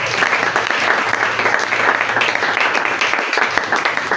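A church congregation applauds loudly and steadily during a French-language Bible teaching on the local church, a dense, sustained roar of many hands clapping throughout, close and full.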